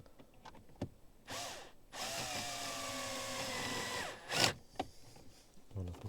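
A power screwdriver whirs steadily for about two seconds while fastening an aftermarket car radio into a Peugeot 508 dashboard, preceded by a brief spin-up and followed by clicks and handling noises.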